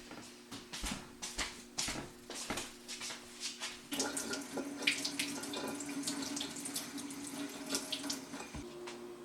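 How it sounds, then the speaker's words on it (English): Tomatoes are washed under a running kitchen tap, with a steady stream of water splashing into a sink, broken by intermittent spatters and handling noises as they are rinsed. It is close and continuous. "The first thing we gotta do is take the tomatoes and wash them off and cut the bad places out of them, so that we're doing that now."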